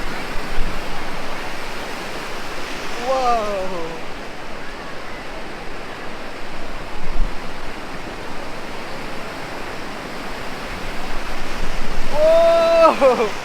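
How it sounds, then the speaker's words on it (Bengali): Broad, roaring surf of large ocean waves at Puri beach fills the scene, swelling and crashing continuously; a voice calls out briefly twice over the noise. "এই দেখো এই দেখো কত বড় ঢেউ কত বড় ঢেউ"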